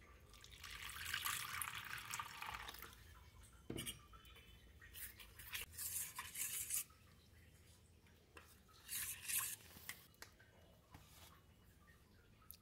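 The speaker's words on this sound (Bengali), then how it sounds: "দেবো একটু জল।" Water is poured in short splashing bursts into vegetable chop batter in a kitchen, faint and close, with a few quiet clinks of a bowl between pours.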